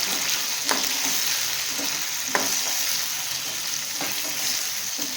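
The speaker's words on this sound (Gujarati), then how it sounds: "ફરીથી આ રીતે હલાવી લેવાનું છે." Gunda being stirred in a pan with salt and turmeric, a steady close sizzle of frying with a few sharp scrapes of the spoon against the pan, no voices.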